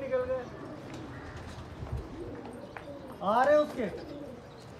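Desi Gola pigeons coo from a pigeon loft, one soft throaty coo rising briefly over outdoor ambience while someone talks nearby.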